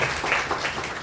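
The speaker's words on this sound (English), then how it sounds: "I think he deserves a big round of applause" Applause from an audience honoring a hand transplant patient at a hospital event, a steady mid-level wash of clapping filling the whole moment without pause.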